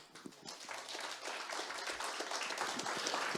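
Light applause at a ceremony handing over school buses, with a scattered patter of claps that is fairly faint and distant and continues evenly throughout.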